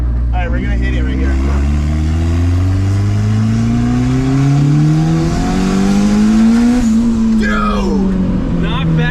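A Honda fitted with a cheap $120 turbo accelerates hard, its loud engine note climbing steadily in pitch, dropping at a gear change, then pulling upward again.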